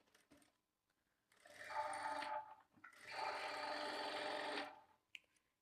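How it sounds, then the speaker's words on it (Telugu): A sewing machine stitches a seam on a plain blouse in two steady bursts of close, whirring motor hum, separated by a brief pause, with light handling clicks around them. "ఇప్పుడు ఇదే స్టిచ్ మీద ఇంకొక స్టిచ్ వేసుకోవాలి."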